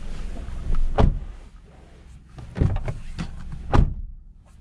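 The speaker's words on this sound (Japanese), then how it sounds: "でドア閉めた音聞いてみましょうね" Several soft thuds and shuffles inside a 2020 Suzuki Hustler, ending with a muted rear door shut, close and fairly quiet with no talking.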